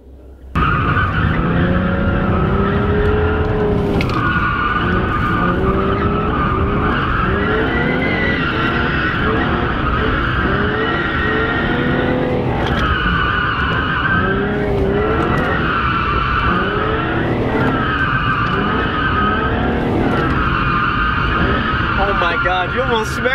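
A drifting car spins through a manji, tires skidding and squealing continuously over a loud revving engine, with voices talking throughout.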